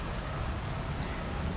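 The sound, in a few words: monsoon rain falling on umbrella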